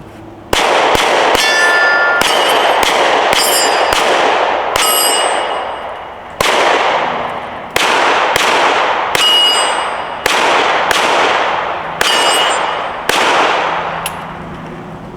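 A Glock 43X pistol fires about a dozen sharp, loud shots at a VTAC shooting barricade, spaced unevenly with ringing decay after each, some in quick pairs.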